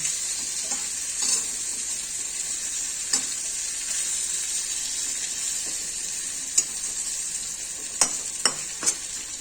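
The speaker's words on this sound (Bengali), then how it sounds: "এভাবে আস্তে আস্তে আস্তে আস্তে একটু করে সাঁতলে নিতে হবে, নাড়িয়ে টাড়িয়ে ভালো করে দিলে পরে সাঁতলানোটা ভালো হবে।" Eggplant and pabda fish curry base sautés in a pan with a steady oil sizzle, while a spoon stirs and taps against the pan now and then, with several sharper clinks near the end.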